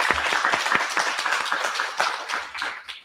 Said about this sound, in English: please give a round of applause for Michael Twitty and Sara Shalva